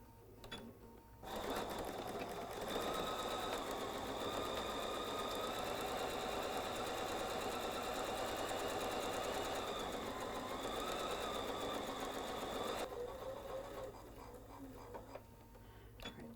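A home sewing machine stitches a charm pack tote seam with back tacks at each end, a loud, steady close-up mechanical whir running for about eleven seconds before winding down.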